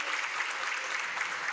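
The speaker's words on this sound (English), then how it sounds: "Let's give a round of applause for our event this morning." A conference audience at an international shipping decarbonization event in Bali applauds, producing an even, continuous wash of many hands clapping that holds steady the whole time.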